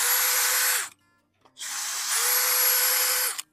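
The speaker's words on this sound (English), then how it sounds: "Sometimes I use this drill to dig up grass too." A power drill bores into a garden bed soil in two sustained, loud whining runs separated by a short pause, the motor pitch steady with a slight drop near each end.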